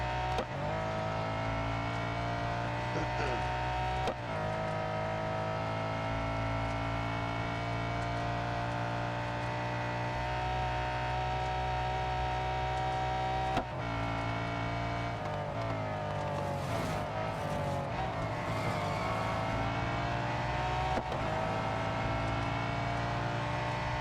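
A race car engine in the Real Racing 3 mobile game drones loudly and steadily, with a few brief gear-shift dips and pitch changes as it laps the track, no voices over it.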